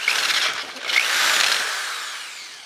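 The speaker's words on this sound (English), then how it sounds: "We've drilled it out using the same holes as a guide." A power drill whines through metal while drilling bolt holes for camera dolly wheels, a bright, steady grinding burst that rises, then slowly tapers off.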